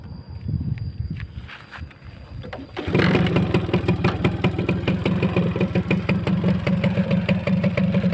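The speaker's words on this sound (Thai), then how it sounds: "เดี๋ยวลองสตาร์ทเท้าดูก่อนนะครับ" Honda Smile motorcycle kick-started: a few scuffing kicks and sputters, then the small engine catches and settles into a steady, close, even idle.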